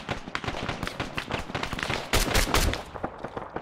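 Dense bursts of Arma 3 gunfire, including light machine gun and PKM fire, crackle nonstop at close range, with a louder cluster of heavy shots partway through.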